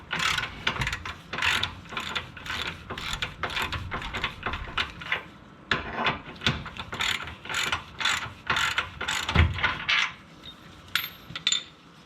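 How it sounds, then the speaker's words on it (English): Socket wrench ratcheting out control arm bolts on a 5th-generation 2013-2018 Nissan Altima, a close run of rapid clicking bursts repeating steadily for about ten seconds with brief pauses, no talking. "so you still have to use the socket wrench on it"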